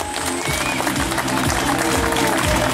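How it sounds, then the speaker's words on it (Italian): An outdoor crowd applauds at a gathering in the Parco del Matese, with loud, dense clapping running throughout and voices mixed in underneath. "Facciamo un applauso, forza!"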